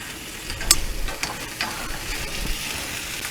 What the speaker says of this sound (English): hearing the bacon sizzle